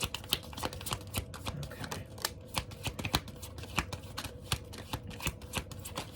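A deck of tarot cards is shuffled close to the microphone in a continuous run of quick, crisp riffling flicks and slaps, with no talking.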